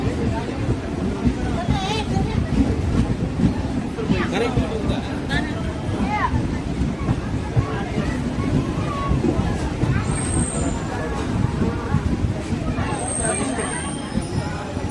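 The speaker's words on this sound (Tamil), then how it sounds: "குப்பம் ஸ்டேஷனில் சரியான க்ரௌட் இருக்குது" Crowd of passengers at Kuppam railway station with a passenger train, a dense hubbub of many voices chattering near and far, steady throughout with occasional faint high tones.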